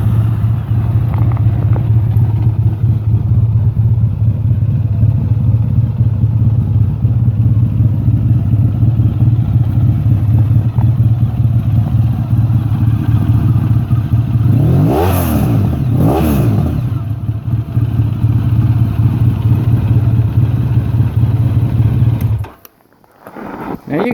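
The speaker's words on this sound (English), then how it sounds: "let you hear how the bike sounds. The bike has a great rumble" A Honda VFR1200 motorcycle with about 35,000 miles idles with a steady, deep rumble for over twenty seconds, briefly revving twice in quick succession before the engine cuts off near the end.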